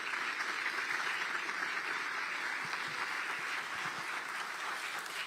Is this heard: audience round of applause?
yes